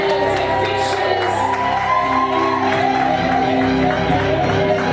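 A crowd cheering and shouting at a wedding blessing ceremony, loud and continuous with whoops, scattered cries and some clapping mixed in, voices rising over the din.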